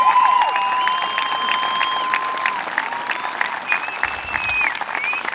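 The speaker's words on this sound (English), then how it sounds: "If we can all stand and give them a round of applause" A standing audience at a high school commencement breaks into loud, sustained applause that fills the hall, with whistles and scattered cheers rising above the clapping.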